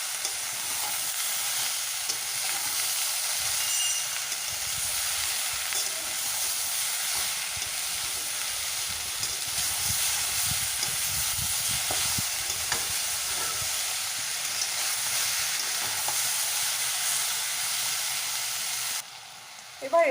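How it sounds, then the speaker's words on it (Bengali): Shukto, a Bengali vegetable dish with a little sugar, is stir-fried in a pan on high flame, giving a steady, close sizzle with soft scraping stirs that runs unbroken for about twenty seconds. "গ্যাসটা আবারও হাই ফ্লেমে দিয়ে ভালো করে কষিয়ে নেব।"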